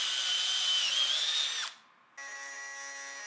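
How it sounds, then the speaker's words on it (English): A power drill whines steadily as a 32mm hole saw bites into wood, cuts out briefly, then spins up again with a steady high hum. "I can drill a hole with a 32mm hole saw to accommodate the tube"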